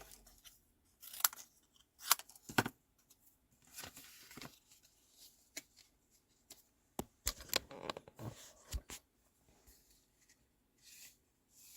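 Scissors snip and trim a piece of stamped greeting card, a scattered series of short, quiet, crisp cuts and paper rustles close by, with no talking.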